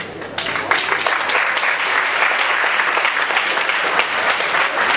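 Audience applause during a presentation and speech, a dense, steady clapping that starts abruptly and holds at full strength throughout, close and loud with no voices over it.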